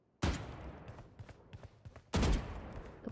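Gunfire from a competitive first-person shooter during aim practice, heard as two loud, sharp bursts of shots at the start and near the end, with softer scattered shots and game noise between them.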